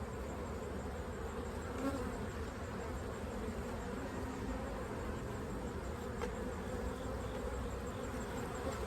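Honeybees swarming around an opened hive give a dense, continuous buzzing drone, steady and close throughout, with no voices.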